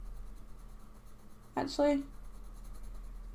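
Coloured pencil scratching across handmade Khadi sketchbook paper: a constant faint rubbing hiss with a short louder stroke in the middle, heard under a brief spoken word.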